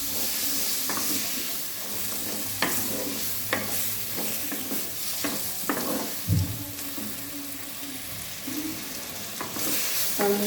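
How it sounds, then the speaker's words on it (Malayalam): Crushed ginger and garlic frying in a pan for a fish curry, a continuous hiss of hot oil broken by sharp spatters and clinks of a spoon stirring, close and clear. "നമുക്കതിലേക്ക് ഇഞ്ചി വെളുത്തുള്ളി ചതച്ച് വെച്ചത് അതിലേക്ക് ഇട്ട് കൊടുക്കാം."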